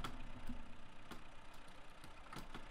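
A combine harvester's engine idles in a farmyard in the Farming Simulator 17 video game, a steady low rumble with a continuous even drone and a few faint clicks, and no voices.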